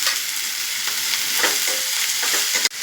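Peas and capsicum sautéing in a pan with onion and curry leaves for a leftover-rice breakfast dish: a close, continuous hissing sizzle with faint stirring, ending in a brief knock.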